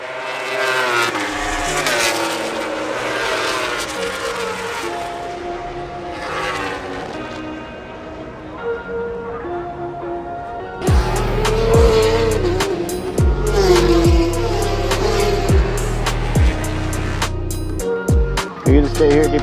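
Racing motorcycles at Laguna Seca during a MotoAmerica event, loud engines roaring past nearby, rising and falling with sharp gear changes and a distinct whining pass, continuous throughout.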